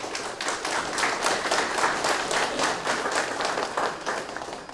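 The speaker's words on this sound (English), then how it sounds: "They already clapped again." A lecture audience applauds steadily for several seconds, a dense, even patter of many hands at moderate loudness. No voices cut through.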